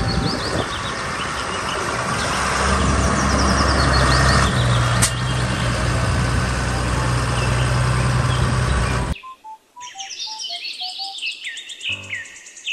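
A toy tractor runs a loud, steady electronic engine rumble with tinny melody tones for several seconds, then stops abruptly and gives way to short beeping jingles.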